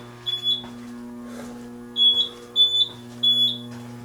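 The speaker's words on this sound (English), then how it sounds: "Some kind of fire alarm." A fire alarm chirps in short high-pitched paired beeps, repeating several times over a low steady hum.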